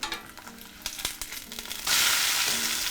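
An egg fries in a pan until it is crisp and golden at the edges, giving a steady sizzle with a few light scrapes. The sizzle grows to a loud, hissing crackle near the end.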